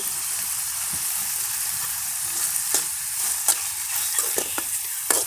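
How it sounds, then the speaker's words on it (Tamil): Tomatoes with salt sautéing in a pan: a constant bright sizzle close by, with several quick scrapes and clicks of a spatula stirring them, growing more frequent toward the end. "கொஞ்சம் உப்பு சேர்த்து நல்லா தக்காளி வதக்க விட்டுடலாங்க"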